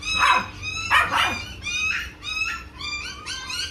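A Labrador barks in a run of about six sharp, high yaps and yips, fairly close, with short gaps between them and a faint background hum.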